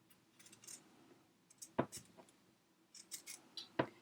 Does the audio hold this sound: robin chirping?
no